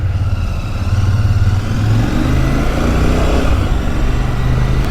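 A Royal Enfield Shotgun 650 motorcycle rides along, its engine a loud, steady low rumble with a brief rise in revs, close to the microphone and with no talking.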